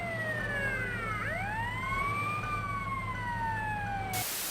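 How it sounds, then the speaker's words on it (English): A fire engine siren wails in Grand Theft Auto: Vice City, its pitch sweeping up and down and overlapping with a second siren, loud over a steady engine drone and ending in a sudden burst of noise. "what the hell is that fire engine up to?"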